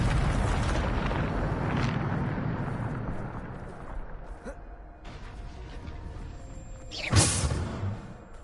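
Booming spell blast from Hogwarts Legacy gameplay: a dense rumbling roar fills the opening seconds and slowly fades, then a sharp bright whooshing burst hits near the seven-second mark, loud and alone without talk.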